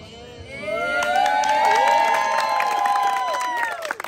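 A crowd cheers with high whoops and rising shouts, mixed with scattered clapping. The noise swells quickly and holds loud for about three seconds before tapering off.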